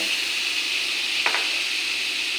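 Spice masala sautés in oil with a steady, close sizzling hiss. A single brief scrape of a spoon cuts through midway.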